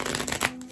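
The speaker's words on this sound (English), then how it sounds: "I'm going to do one more shuffle" A deck of tarot cards is shuffled in a quick riffle, giving a dense, papery flutter of snapping cards that lasts under a second, close and fairly loud.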